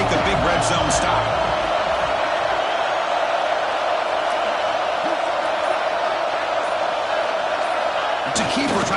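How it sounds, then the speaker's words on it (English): Loud stadium crowd at a college football game roaring steadily to rally the home defense before a red zone stop, a dense sustained wall of noise from start to finish. "here comes the noise. This crowd is trying to inspire this defense to make a big red zone stop."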